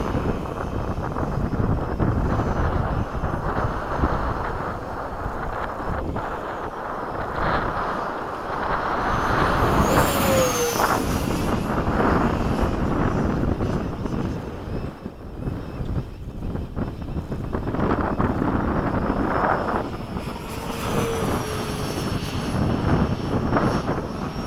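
F-15 fighter jet in flight, a constant, heavy roar of engine and rushing wind heard from inside or close by, swelling and easing slightly over a long stretch with no pauses.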